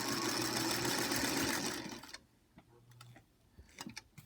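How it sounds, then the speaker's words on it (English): A sewing machine stitches a wide tuck, running loud and steady for about two seconds before stopping, followed by quiet clicks and taps. "take that first stitch, and then just start sewing"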